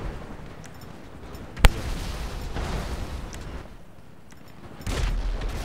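Explosions in the video game GTA Online, one sharp close blast followed by rumbling booms and a later swell of noise over a steady game background, with no talking.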